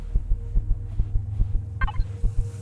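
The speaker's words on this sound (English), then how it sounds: "Heartbeat." Throbbing heartbeat from the Empyrion: Galactic Survival game, low thumps in a steady rhythm of about three per second over a constant electronic hum, with a brief chirping blip partway through.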